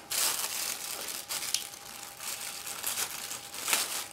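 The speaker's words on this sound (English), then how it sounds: "And another plastic bag." Plastic bag holding parts from an ARK Models 1/35 Katyusha BM-13 scale model kit being opened by hand, with close, steady crinkling and crumpling and a few sharper rustles.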